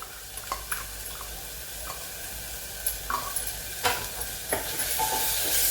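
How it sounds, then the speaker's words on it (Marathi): A soft sizzle of ground masala sautéing in a hot pan, with scattered stirring clicks and scrapes, steady and close, alone. "आणि आता परतत आहे।"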